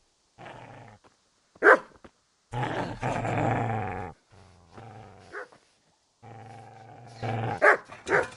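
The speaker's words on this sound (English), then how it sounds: "Get away, you mutt!" Dog in the medieval video game Kingdom Come barking and growling in several short close bursts with pauses, sharp barks mixed with low snarls.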